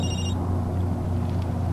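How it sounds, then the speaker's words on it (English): A mobile phone rings briefly during a film scene on set, with a short burst of electronic ringtone at the start, then steady low rumble. "Is that your phone?"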